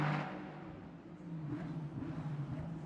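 A Ferrari Challenge race car at Suzuka accelerates hard out of a hairpin, its engine note rising in a distant, moderately loud revving whine.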